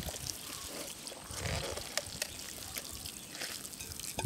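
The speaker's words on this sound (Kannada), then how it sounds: "ಒಳ್ಳೆ ಬಿಸಿ ನೀರನ್ನು ಸೇರಿಸಿಕೊಂಡು ನಾವು ಕಡಿದುಕೊಳ್ಳುವಂಥದ್ದು" Hot water poured into a bowl of leftover rice mix, a soft continuous trickle and splash heard alone at low level.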